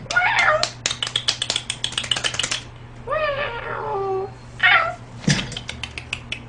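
A house cat meows in a few drawn-out, rising calls mixed with short clicking taps, heard close and clear indoors, the cries separated by brief pauses.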